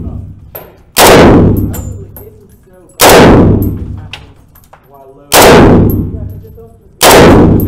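Swiss guns fired at a shooting range: four very loud, booming gunshots at irregular intervals, each ringing out in a long decaying echo that fills the gaps between shots.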